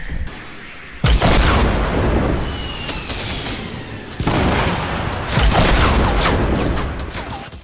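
Heavy bursts of gunfire and booming blasts fill a Fortnite firefight, with loud dense volleys starting around one second in, renewing at about four seconds and again near five and a half, sustained and close.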